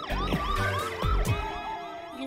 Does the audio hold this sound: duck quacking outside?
no